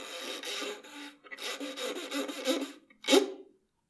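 Bow of a violin or cello gripped in the fist and scraped across the strings, giving rough, breathy rubbing strokes in several bursts, ending in a sharper accent and then silence.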